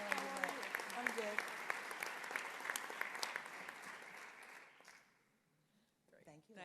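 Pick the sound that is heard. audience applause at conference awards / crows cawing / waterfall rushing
audience applause at conference awards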